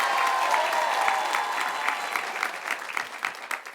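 A studio audience applauds for the applause meter on a French television show, loud sustained clapping that thins toward the end into scattered claps, with faint crowd noise.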